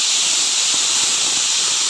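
Chopped banana stem dropped into hot oil seasoned with fried nigella seeds, giving a loud, continuous close-up sizzle with a dense, even hiss throughout and no pauses.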